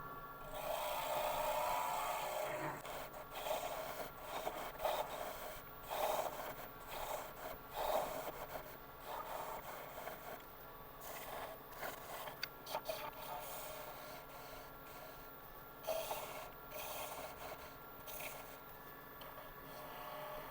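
A small wood lathe turning a piece of wood with a skew chisel from Record Power's small turning tools gives a faint, wavering scraping whir that rises and falls as the cut continues.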